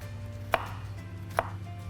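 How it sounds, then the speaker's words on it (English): Garlic being chopped with a knife while cooking a Somali dinner: two sharp, distinct chops spaced under a second apart, standing out over a steady low background hum, with no talking. "The next step is to finally chop the garlic so it can go in there"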